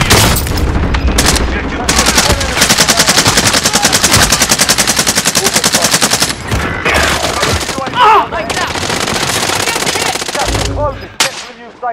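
Automatic weapon fire in Call of Duty Warzone: long, dense machine-gun bursts roar loudly for several seconds, broken by brief pauses, booms and scattered single shots, with shouted voices mixed in.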